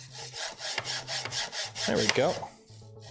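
Gritty, rasping slide of a 3D-printed part on a mostly printed 3D printer build, repeated in several rough back-and-forth strokes close to the mic, with a brief spoken remark near the end.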